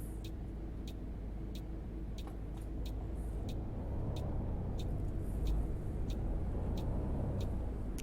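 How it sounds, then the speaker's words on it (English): A coach bus engine in Fernbus Simulator drones steadily, with a rough gearbox rumbling underneath and faint periodic ticks layered on top, building slightly in intensity toward the end. "this gearbox is a little bit rougher than the Scania"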